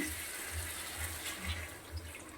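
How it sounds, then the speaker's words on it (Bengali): Water is poured into a pan of simmering rohu fish curry, a short, faint, steady splashing trickle with no talk. "এবার আমি জল দিয়ে দিচ্ছি"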